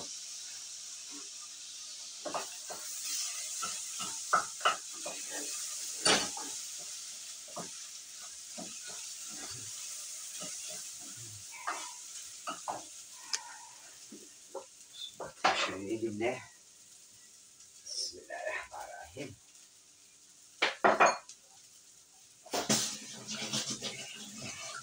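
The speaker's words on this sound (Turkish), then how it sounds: "Bulgurumu da döküyüm. O da kavrulsun biraz." Bulgur and vermicelli toast in oil in a pan, giving a faint steady sizzle broken by scattered scrapes and clinks of a utensil stirring against the pan, with occasional louder clatters and some quiet speech in the background.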